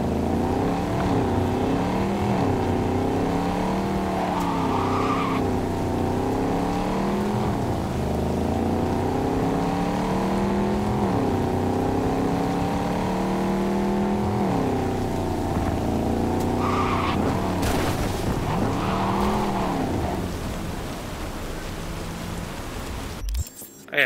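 A car engine in Cyberpunk 2077 revs and drones steadily for a long stretch, rising and falling in pitch as it drives, close and loud, ending abruptly.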